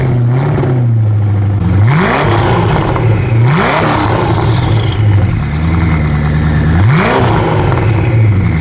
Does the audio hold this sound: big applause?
no